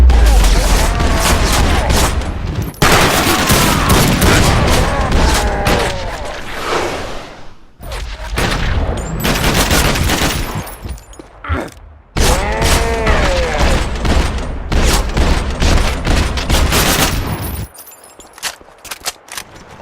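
Gunfire in the video game Max Payne 2, dense bursts of shots with booms and mechanical clatter, loud and close, broken by brief pauses, with voices talking over parts of it.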